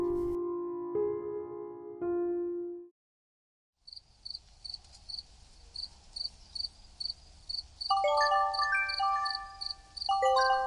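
A phone rings for an incoming call in a cartoon horror story. A repeating electronic ringtone jingles in short, evenly spaced bursts after a moment of silence, preceded by a few sustained chime tones.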